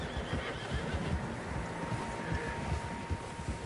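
Several horses gather in Red Dead Redemption 2, with a whinny rising over a dense, steady wash of outdoor game ambience and shuffling hooves, fairly loud and continuous.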